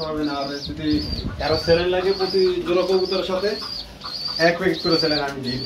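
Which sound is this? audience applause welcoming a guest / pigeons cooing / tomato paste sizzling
pigeons cooing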